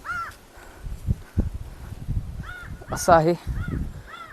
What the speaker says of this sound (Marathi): कावळा कावका करतोय.